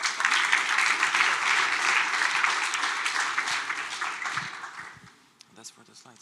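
Audience at a ZK Hack Kraków kick-off event applauding the sponsors, a sustained wash of clapping from a crowd that fades out after about five seconds, followed by faint voices.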